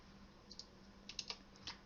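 Light typing on a computer keyboard, a few soft, irregular key clicks in small clusters, quiet and close, with near silence in between.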